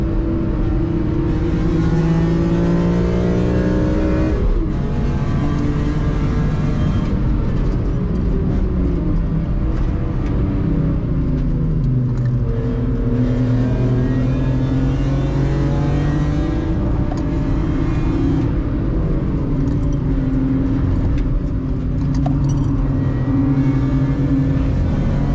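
A BMW M3 CSL race car at the Nürburgring wails loudly and continuously from inside, its engine climbing through revs, dropping on each gearshift and rising again in repeated sweeps with no talk.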